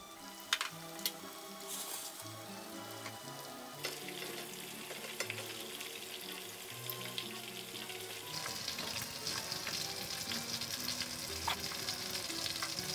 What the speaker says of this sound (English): The meatballs are fried,